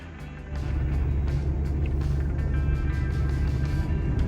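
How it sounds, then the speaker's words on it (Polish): Strong gusting wind buffets a moving car on a mountain road, a heavy low rumble and roar inside the cabin that swells after a moment and stays loud and steady, with no talking. "Nie wiem, czy słychać, jak mocno wieje i praktycznie rzuca autem."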